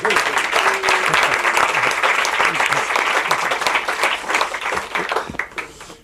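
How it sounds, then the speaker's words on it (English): Audience applause at a journalism awards ceremony, loud sustained clapping from a room full of people, with some voices mixed in as it begins to fade. "A big round of applause"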